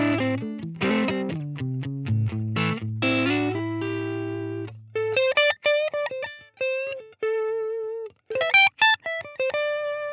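Electric guitar played through a Helix amp preset with no reverb, a distorted riff of chords and single notes that ends dry and abrupt, with clipped gaps between phrases.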